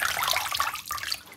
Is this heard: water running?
yes